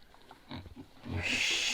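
Vietnamese pot-bellied pigs grunting in a village yard, with low snorts in short bursts followed by a louder, noisier stretch of squeals or rustling toward the end.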